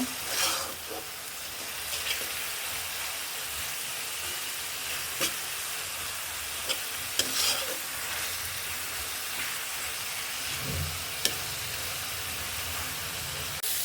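Masala stir-fried in a pan for hilsa fish curry, a soft continuous sizzle with occasional spatula clicks and scrapes, fairly quiet and without talk.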